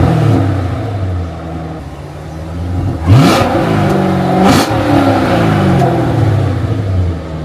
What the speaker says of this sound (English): straight V8 popping, boy. This thing sound crazy.